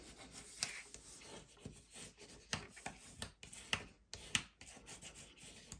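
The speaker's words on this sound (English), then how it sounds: "Give it a good burnish." Paper pocket being burnished closed by hand in mini album crafting, a run of dry rubbing and rasping strokes, close and fairly quiet, with a few sharper scrapes, no talk.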